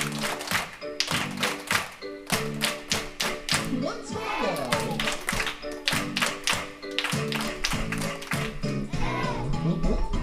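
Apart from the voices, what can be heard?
rhythmic hand clapping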